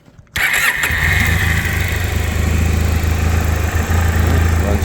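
Pusher engine added to a converted Mitsubishi i-MiEV electric car cranks and catches after a quiet moment, then settles into a loud, steady, rumbling idle close by, with no talking.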